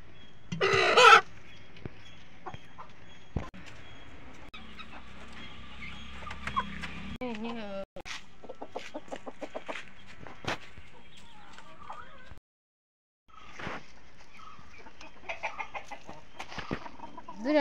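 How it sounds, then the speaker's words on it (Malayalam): Backyard chickens, including a pair of spiny-feathered hens, clucking on and off at close range, with a loud squawk near the start and scattered short calls and rustles afterward; a brief silent gap near the end. "ഇത് രണ്ട് മുള്ളൻ കോഴികളാണ്"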